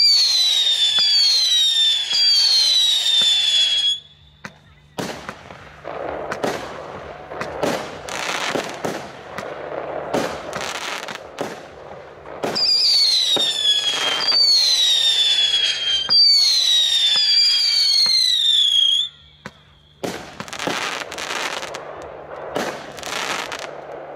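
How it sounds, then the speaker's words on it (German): A fireworks battery of 19 shots, 20 mm calibre, fires repeated whistling shots and sharp bangs in several bursts, with brief pauses between volleys, loud and close. "wir machen weiter nach der Superbombette mit der Batterie Rockstar, 19 Schuss und 143 Gramm NEM"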